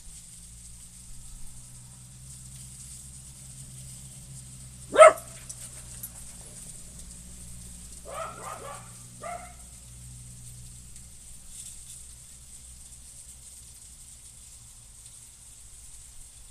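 Outdoors in a quiet, peaceful rural spot, a dog gives one sharp bark followed a few seconds later by a short burst of yips, all fairly distant over a low steady hum and faint background hiss.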